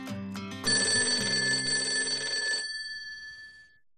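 A telephone bell rings loudly with a rapid metallic trill on a call-in radio show, starting after a short tone sequence and ringing for about two seconds before fading.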